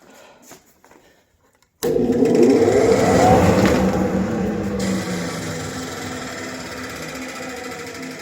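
A central dust collection system for workshop machines starts abruptly with a loud whoosh, its motor winding up in a rising whine and then settling into a steady, heavy roar that continues alone.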